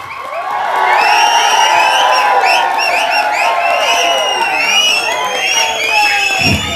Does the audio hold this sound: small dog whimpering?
no